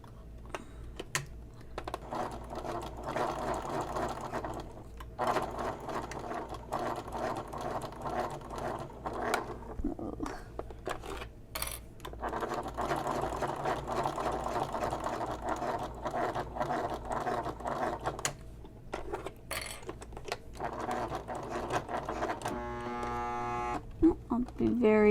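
A sewing machine stitches through vinyl on a messenger bag in uneven runs of rapid mechanical ticking, pausing and restarting as the work is fed by hand, close and moderately loud.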